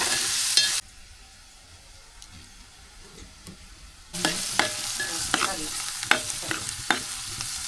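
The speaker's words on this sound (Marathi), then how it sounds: "कांदा टाकून घेऊया आपण. कांदा लाल होईपर्यंत भाजून घेऊया." Onion frying in a pan until browned for a besan-stuffed dish, opening with a loud burst, then a quieter stretch before steady sizzling returns with repeated sharp spatula scrapes and ticks, close and without talk.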